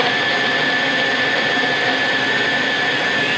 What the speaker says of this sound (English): put it right on top of the Dynablend and just turn it on